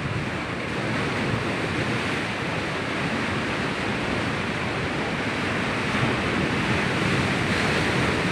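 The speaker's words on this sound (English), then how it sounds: "So windy. Narinig nyo guys?" Strong wind gusts across the microphone at the seaside, mixing into a dense, loud, steady roar with breaking surf for the full stretch, and no voices are heard.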